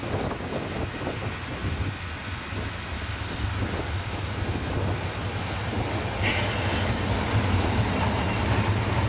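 A service train headed by a K57 steam locomotive rolls past on the narrow-gauge line at Barbe, a steady loud rumble with clattering wheels and wind noise building over about nine seconds.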